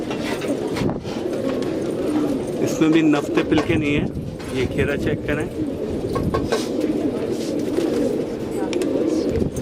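Desi pigeons cooing in a crowded loft, soft repeated coos layered throughout, with someone talking over them and brief chirps and rustles nearby.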